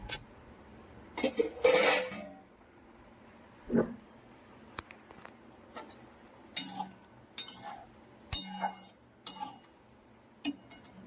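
Spices go into hot oil for a potato and pointed gourd curry, with scattered clinks and scrapes of a utensil against the pan under a faint sizzle, close by and uneven.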